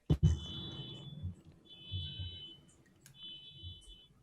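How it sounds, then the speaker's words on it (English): A car alarm sounds outside, its high electronic tone pulsing in repeated bursts at a distance, beneath muffled thumps and low room noise. "I'm just gonna mute because there's a car alarm outside."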